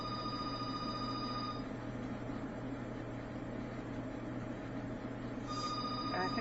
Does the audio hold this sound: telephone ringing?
yes